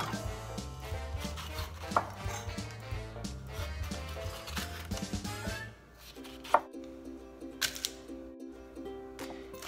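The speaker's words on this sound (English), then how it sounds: "I'm sure there are a lot of ways to cut peppers" A chef knife cuts through a pepper on a cutting board, with a few crisp chopping taps standing out over steady background music.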